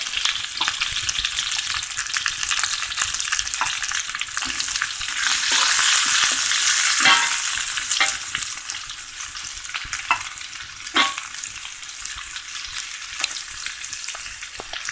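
Onions frying in a pan for egg manchurian, a loud and continuous close sizzle broken by occasional scrapes and knocks of stirring.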